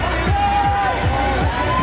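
An audience applauds and cheers for costumed characters at a cosplay parade at Comic Con France, a dense, continuous wash of clapping and crowd noise with a faint tonal musical line running underneath.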